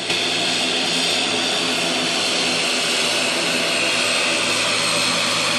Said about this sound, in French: L'avion du Premier ministre malien Choguel Kokala Maïga atterrit sur le tarmac de l'aéroport international de Ouagadougou